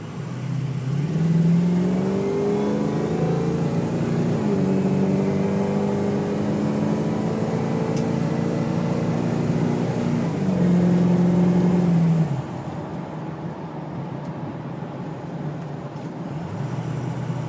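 A 2004 Ford F250 diesel 4x4 pickup accelerates onto a freeway, its engine drone rising through gears in a loud, sustained run from inside the cab before easing into a steadier, quieter cruise with road noise.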